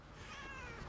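A cat meows once, a short, faint call over steady low background noise.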